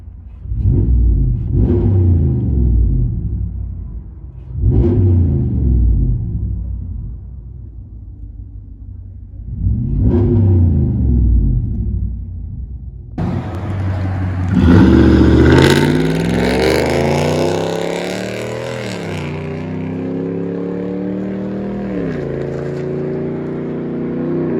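Heard from inside the cab, a 2017 Ram 1500 with a 5.7-liter Hemi V8 and loud aftermarket exhaust blips through three deep revs, then roars into a longer, higher rev before settling back to a low rumble.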